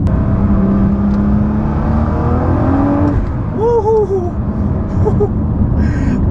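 A Nissan GT-R running on E85 fuel accelerates hard, its engine roaring loud and close with rising whine as revs climb, and a brief chirping whistle follows over the sustained drone.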